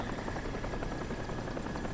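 Helicopter in the game Crysis, a steady, fairly faint rotor drone with pulsing chop running throughout, no voices.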